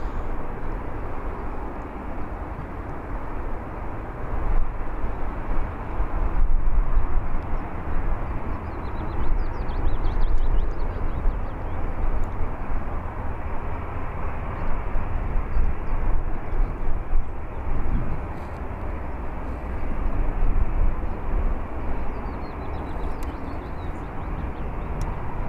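A Vueling airliner at Birmingham Airport gives off a steady, distant jet-engine roar that holds broad and even for the whole stretch, with no voices over it.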